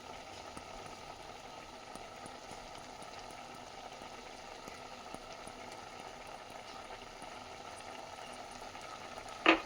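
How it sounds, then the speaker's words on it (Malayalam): Vegetable kurma simmers in a pot, a soft, steady bubbling that holds at a low level throughout, ending with one brief louder knock. "ഇനി ഇതൊന്ന് തിളയ്ക്കണം."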